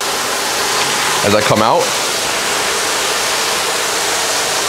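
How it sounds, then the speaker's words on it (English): Steady splashing rush of a backyard pool waterfall at a luxury waterfront home in Miami, a constant broadband wash filling the whole clip while someone speaks briefly over it. "outside there's a waterfall that's catching my eyes"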